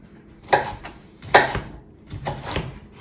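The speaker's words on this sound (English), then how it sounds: "I'm just going to chop this broccoli right up into small pieces" Broccoli being chopped into small pieces with a knife on a board, stem included, for a vegetable soup: several sharp, close knife strikes spaced irregularly, each with a brief crunch, over a quiet kitchen background.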